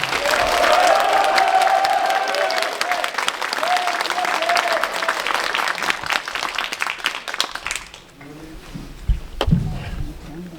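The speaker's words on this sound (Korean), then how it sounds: "큰 박수로 맞이해 주시기 바랍니다" A crowd applauds in a university memorial hall as a mayoral candidate is welcomed at a joint campaign rally, loud and continuous, then stops abruptly and gives way to quiet room sounds and faint voices.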